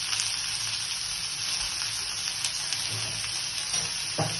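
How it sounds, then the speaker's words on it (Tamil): Green chillies with a pinch of salt sizzle steadily in hot oil in a pan for pepper chicken, a close, even frying hiss with a few faint stirring clicks. "நல்லா கீழே வச்சு வதக்கினா அருமையாக வதங்கிடும்."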